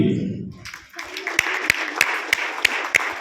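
Audience at a martial-arts belt grading exam and award ceremony clapping for students, a crowd of applause building after a voice and carrying on steadily with sharp accented claps.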